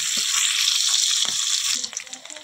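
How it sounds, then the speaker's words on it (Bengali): Salted sea fish fries in hot oil, a loud, bright sizzle that runs steadily, then thins near the end as scattered pops and light clinks of a utensil take over. "তো চলো মাছটা আগে ভেজে নিই, ভেজে তুলে নিই"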